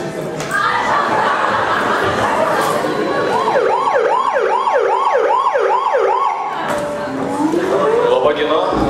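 A police car siren wails in a school carnival play, rising and falling in a fast, repeated yelp that sounds close and loud over a background of children's chatter.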